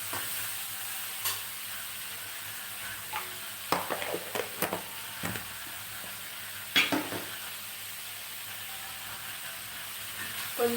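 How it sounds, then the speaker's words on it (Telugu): Curry leaves and cauliflower frying in oil in a pan, a steady soft sizzle with scattered sharper crackles and pops, no talk. "కొంచెం అడుగంటకుండా వేయించేయాలి బాగా"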